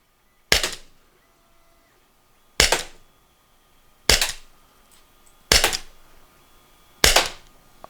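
An Umarex HK VP9 .43 launcher fired five times, sharp, loud, close cracks spaced roughly one and a half seconds apart, each decaying quickly into near silence.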